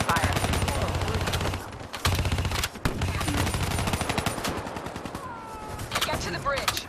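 Dense automatic gunfire from a Call of Duty Black Ops 3 combat scene, rapid rattling bursts running almost continuously and loud up close, with brief pauses and some faint voices in the mix.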